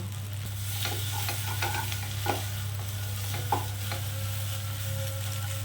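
Steady sizzling of diced potatoes frying in a pan, with occasional scraping stirs over a constant low hum.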